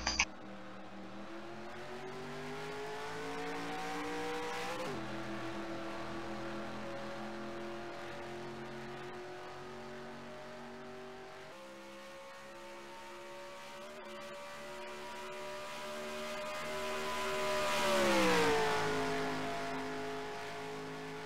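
Race cars on a track in the Happy Holidays 200 roar down the back stretch, their engines holding a steady whining drone that climbs and sweeps in pitch as they pass, with a louder surge near the end.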